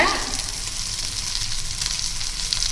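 Sardines fry in oil with a close, steady sizzle that crackles evenly throughout, loud and unbroken, with no voices.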